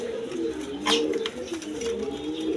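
A pair of blue barless Lahori pigeons, both female, coo softly in low repeated murmurs, with a brief brighter flutter or call in the middle and faint background noise throughout.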